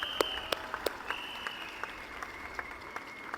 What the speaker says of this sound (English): can we all give an applause to Zhi Xiong